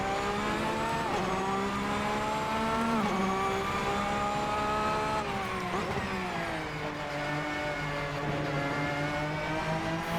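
A Porsche sports car on a race track, its engine droning steadily and rising in pitch under throttle, with brief dips at gear changes and no voices over the sound.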